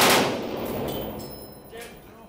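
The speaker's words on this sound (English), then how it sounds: "Burst fire." A gun fires in burst mode, a loud close blast at the start that rolls off into a long fading echo, with a fainter crack following.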